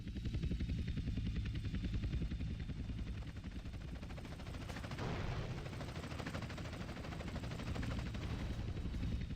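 A helicopter in the video game GTA San Andreas, its dense rotor chop running continuously and loud throughout, overlaid with rapid gunfire bursts and a brief whooshing swell midway.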